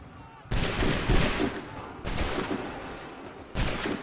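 A musket volley in Assassin's Creed III: three loud, booming crashes of massed gunfire arrive about every second and a half, each one roaring and then decaying into rumbling echo.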